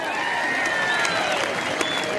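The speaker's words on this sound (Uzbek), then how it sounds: "O'rtoqlar, bitta olqish bo'lsin Shankar palvonga." Crowd at a village wrestling tournament in Varganza, Kitob district, Kashkadarya, applauding wrestler Shankar palvon, a steady wash of clapping with tonal voices and whistles mixed in, moderately distant and sustained.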